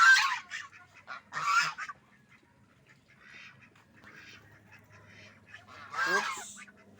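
Domestic geese on a small farm honking loudly in a few bursts, with quieter background between calls, heard during an egg check in the pen.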